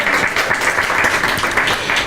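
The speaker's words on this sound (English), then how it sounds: "Let's give her another round of applause." An audience at an integrity and ethics dialogue applauds, producing a dense, loud wash of clapping that continues steadily through the whole moment.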